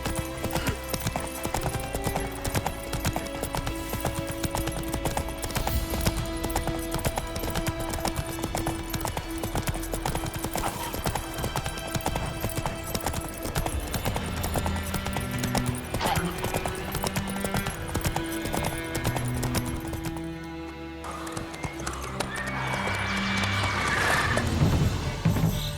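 Steady, rhythmic clip-clop of a ridden horse's hooves in The Witcher, close and continuous under game music and ambience, briefly dropping out before resuming louder near the end, with occasional game voices.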